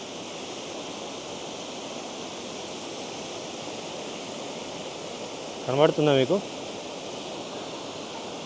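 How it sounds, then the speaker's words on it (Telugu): A forceful waterfall in Germany's Black Forest roars steadily as a continuous wash of falling water, and a person speaks briefly over it near the middle. "చూడండి ఎంత ఫోర్స్ఫుల్గా వస్తున్నాయి అక్కడి నుంచి వాటర్ పైనుంచి"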